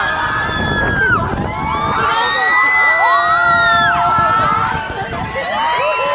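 A crowd of riders on a tall amusement park ride screams and shrieks together, with overlapping high wavering cries and shouts that are loud and sustained and mixed with some talking.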